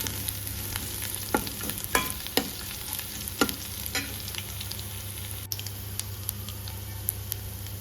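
Crushed garlic frying in a pan for a green mango sweet pickle, a steady low sizzle with occasional sharp ticks and stirring scrapes, close, under a constant low hum, no talk.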